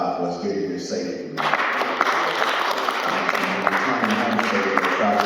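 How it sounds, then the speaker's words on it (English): Clapping erupts from the audience at a youth summit, bursting in after a brief spoken moment and continuing as a dense, lively round of hands with crisp individual claps standing out. "let's give a hand clap for God for us getting here safely."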